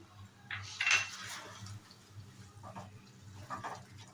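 A spoon scrapes and clinks against a cooking pot while thor bata, a banana-stem paste, is stirred, giving a few close metallic scrapes and knocks over a low background hum.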